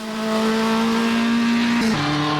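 A classic race car engine in the racing video game Automobilista 2 drones at a high, steady pitch, then drops sharply as the gears shift, loud and close.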